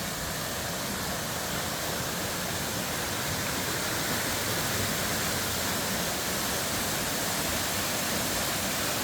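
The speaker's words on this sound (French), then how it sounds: "Ah voilà la fameuse cascade." La cascade de la Roche waterfall, a dense steady roar of rushing water that fills the whole clip without a break, close and loud with no voices.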